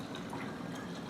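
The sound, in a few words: water poured through a funnel into a cup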